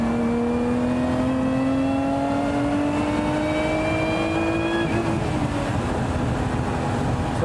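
A Lotus Emira V6 engine revs hard, its rising tone climbing steadily until it strikes the rev limiter with an abrupt cutout, followed by a rough, stuttering idle-like drone; loud, close, and without speech.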